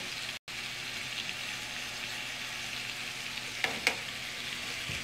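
Wild-caught salmon fries in a home kitchen pan, giving a steady, fairly quiet sizzle that runs throughout, broken by a momentary dropout near the start and a couple of sharper pops toward the end.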